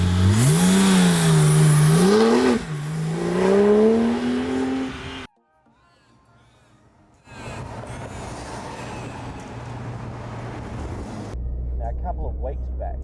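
A 2008 Porsche 911 GT2 accelerates hard on a road, its engine note rising and climbing through gears, loud and close, then dropping out before continuing under talk.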